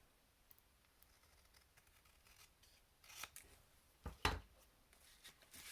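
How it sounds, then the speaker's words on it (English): Paper banner trimmed with chunky scissors, a few quiet crisp snips and slicing cuts against a hushed background, the sharpest cut near the end. "I'm going to trim that into a nice banner"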